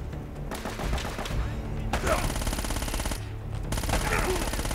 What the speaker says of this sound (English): Somebody with a shotgun?